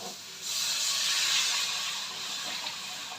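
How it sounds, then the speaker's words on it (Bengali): Water hits hot, freshly fried spice masala in a pan and sets off a loud, sustained steamy hiss that begins suddenly and then fades slightly, heard close up. "এইবারে আমি এর মধ্যে দিয়ে দিচ্ছি পরিমাণ মতো জল"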